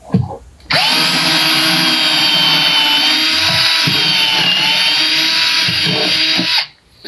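A power drill pre-drilling a hole in a face frame cabinet whirs steadily and loudly for several seconds, close by, starting and stopping abruptly.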